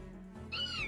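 A single short cat meow, faint and rising then falling, heard once against a quiet background.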